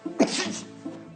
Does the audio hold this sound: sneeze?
yes